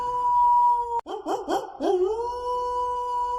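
A wolf howl sound effect plays at a Minnesota Timberwolves basketball game, a long, loud, sustained howl that wavers and bends in pitch midway before settling back into a steady tone.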